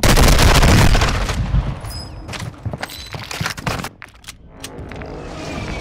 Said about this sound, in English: Hostile precision airstrike